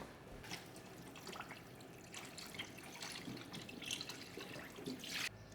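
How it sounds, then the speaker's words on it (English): Tap water runs into a pot of meat and coarse kosher salt, making a faint, continuous splashing and trickling stream. "And then I'm gonna cover it all with a lot of water."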